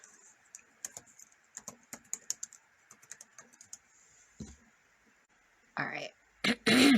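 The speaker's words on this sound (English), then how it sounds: "change the font, type Cricut Sans in here" Rapid bursts of computer keyboard typing while entering a font name in Cricut Design Space for a vinyl shirt project, with irregular clustered key clicks, close and clear, followed by a few louder thumps and clicks at the end.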